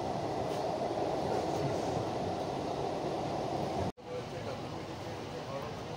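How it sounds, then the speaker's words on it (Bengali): A Kolkata metro train runs in a tunnel beneath the Ganga, a steady loud rumbling roar with a brief sharp dropout before the noise resumes slightly quieter. "তো আমাদের মেট্রো এখন এসপ্ল্যানেড স্টেশনে এসে পৌঁছালো"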